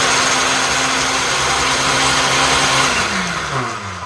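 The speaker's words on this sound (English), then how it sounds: "so everything is nicely blended here" A blender whirs steadily at close range, mixing a carrot dressing with Dijon mustard, lemon and tahini, its motor holding a constant roar before dropping in pitch as it slows near the end.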